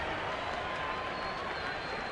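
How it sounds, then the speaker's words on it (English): Steady applause and cheering from a baseball crowd urging on Giants pitcher Vogelsong against the Rockies, a continuous wash of clapping with no clear voices. "They're cheering Vogelsong on."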